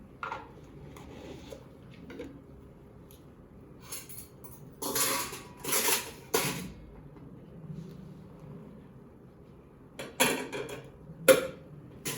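Cleaning equipment such as a urinal is washed with dish soap and dried with a chamois cloth, heard as close, scattered bursts of clattering and rubbing between quiet stretches.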